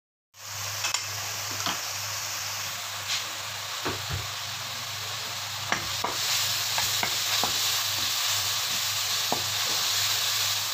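Ginger garlic paste cooking in a pan with oil: a steady close sizzle throughout, with occasional scrapes and clinks of a spoon stirring.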